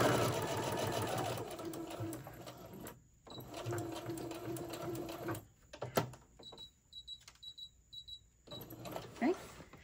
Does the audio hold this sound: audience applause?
no